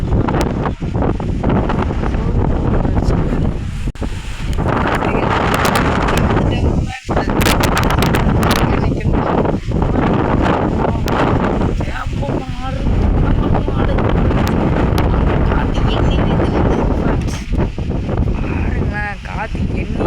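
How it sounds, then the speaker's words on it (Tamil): Strong wind blows through a village, swaying the trees and roaring as loud, continuous gusts that batter the microphone, with only one or two brief lulls. "காற்று ரொம்ப அடிக்குது ஃப்ரெண்ட்ஸ்"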